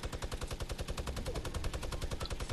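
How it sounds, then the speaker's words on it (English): Rapid automatic gunfire in a video game, a loud, continuous rattling burst of evenly spaced shots with no pauses. "I'm firing on him."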